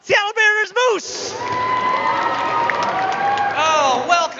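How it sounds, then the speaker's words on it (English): At an Asian Pacific Islander Heritage Month celebration, a crowd breaks into sustained cheering and applause with whoops after a brief stretch of amplified talking, and the noise holds steady before more talking returns near the end. "Everyone, round of applause."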